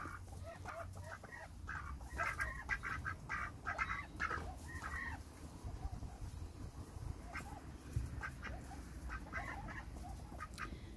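Ducks quack and chatter in a loose flock at close range, with short clustered calls and farmyard background noise.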